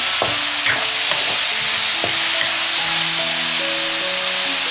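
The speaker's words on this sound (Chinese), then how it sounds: "咱切好的西红柿也倒进去，接着炒出西红柿汁" Chopped tomatoes stir-fried in a wok make a steady close sizzle, with scraping and clanking strokes of the spatula repeating through the frying.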